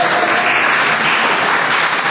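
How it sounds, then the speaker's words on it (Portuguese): A church congregation claps together during an evening service, producing a loud, dense and continuous wash of applause that holds steady throughout the short stretch. "quem pode dar uma salva de palmas bem alegre para Jesus?"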